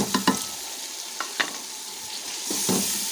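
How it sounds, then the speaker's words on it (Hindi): Tomatoes hit a hot spice masala and sizzle loudly, with sharp clatters of a stirring spoon against the pan over a continuous frying hiss, close up. "अब मैं इसमें टमाटर डालूंगी।"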